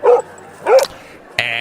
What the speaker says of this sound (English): that sets him off, and he starts barking away.